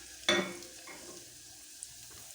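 Red chillies drop into hot cooking oil for homemade chili oil. They give a sharp, loud burst of sizzling that settles into a steady, quieter frying hiss, heard close with no voices.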